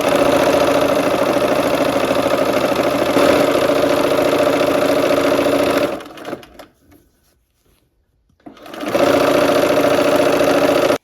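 A sewing machine stitches a quilt block, running steadily and loudly for about six seconds, stopping for roughly three seconds of near silence, then starting up again.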